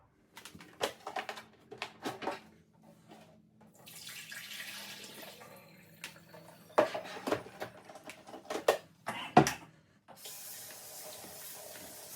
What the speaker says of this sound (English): So it's telling you to dump that out and fill it up with fresh tap water.